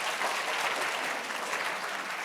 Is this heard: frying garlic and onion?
no